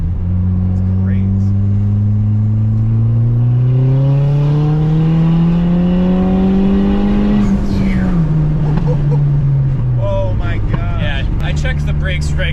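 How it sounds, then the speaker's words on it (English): A powerful turbocharged 320 hp Ford Fiesta ST engine revs and climbs steadily in pitch as it accelerates hard, then drops back, loud and close throughout. "The turbo sounds incredible."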